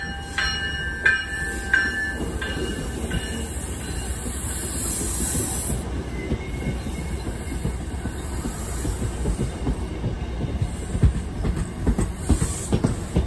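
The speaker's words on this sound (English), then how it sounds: "Number 870 to South Station approaching. Please stand back." An MBTA commuter train rolls into Canton Junction station with a heavy rumble, rhythmic clacking of wheels and a faint hiss of brakes, loud and close.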